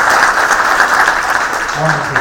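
Clapping from a lecture hall audience, the front rows louder than those behind, fills the moment as a dense, steady wash with a voice faintly present beneath.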